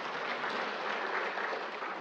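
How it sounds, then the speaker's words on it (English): A room of attendees at a Parkinson's symposium claps briefly, a soft, steady, fairly distant patter of many hands with no voices standing out. "but we can clap for her."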